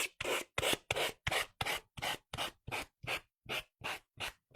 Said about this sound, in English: Cut that down a smidge. And then we'll sand it off.